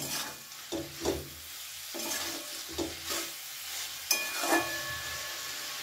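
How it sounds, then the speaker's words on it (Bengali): Fried mourola fish being stirred in a pan over a medium gas flame, with steady frying sizzle and several scraping stirs at irregular intervals, close and moderately loud. "দিয়ে দেব ভেজে রাখা মাছ। ভালো করে একটু নাড়াচাড়া করে নেব।"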